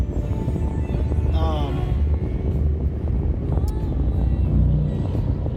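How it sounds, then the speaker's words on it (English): A car cruises along a freeway with a steady, low rumbling road and engine drone filling the cabin, broken briefly by a faint tonal whine, while someone talks over it. "Right now, I'm just driving. I'm on the freeway."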